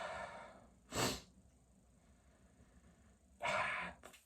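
Two short, sharp sniffs at a beer, close to the microphone and separated by a few seconds of quiet, the first brief and the second longer.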